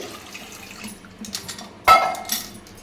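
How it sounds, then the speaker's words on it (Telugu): A short splash and gurgle of two glasses of water poured into a vessel of soaked chickpeas, preceded by a few soft clinks and bumps; quiet background, no speech. "ఒక 2 గ్లాసులు వాటర్ వేసుకుని"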